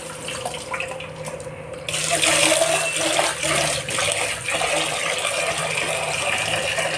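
Mutton pieces being rinsed in water at a home kitchen sink, with a steady rush of tap water, sloshing and splashing, and occasional clinks of a vessel, loud and close throughout.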